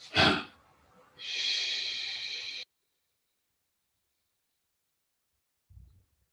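A chi kung breathing-in during a five-animals exercise in yin and yang style: a quick sharp breath, then a long, steady, airy inhale close to the ear, followed by silence and a faint low thump.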